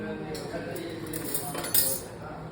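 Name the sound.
spoons clinking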